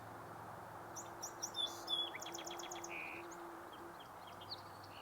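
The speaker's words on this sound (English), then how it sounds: "Song sparrow." A song sparrow sings a series of bright, quick chirps and trills at moderate distance over a soft, steady outdoor hum at a coastal provincial park.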